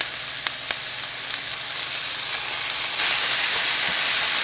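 Ground turkey hitting a hot pan with garlic, a loud close sizzle with a few quick clacks early on, then swelling brighter and louder partway through as the meat settles into the oil.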